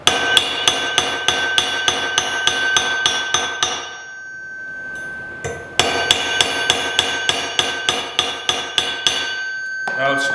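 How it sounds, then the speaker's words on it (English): A large planishing hammer strikes the side of a metal bracelet during a forging demonstration: a steady run of sharp, ringing metallic blows, a brief pause, then another even series of close, loud strikes. "Go back to my favorite hammer, which is this large planishing hammer, and strike this on the side."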